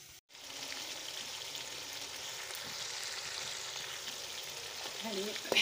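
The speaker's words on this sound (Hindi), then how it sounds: "ये देखें, ऐसे हमें इनको भूनना है, इतनी आंच पे भूनना है।" Chicken for achari chicken browning (bhuna) in a kadai over the flame, a steady close sizzle and crackle that holds evenly throughout, with a few light stirring scrapes near the end.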